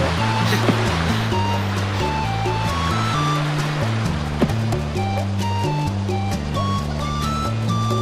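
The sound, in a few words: waterfall in Croc 2 video game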